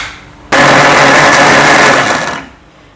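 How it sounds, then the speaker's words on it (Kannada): A kitchen mixer-grinder whirs loudly with its lid closed, kicking on abruptly, running steadily for about two seconds, then winding down to quiet, with no talking. "ಇದನ್ನು ಕ್ಯಾಪ್ ಕ್ಲೋಸ್ ಮಾಡಿ ಇದನ್ನು ಕೂಡ ಬ್ಲೆಂಡ್ ಮಾಡೋಣ"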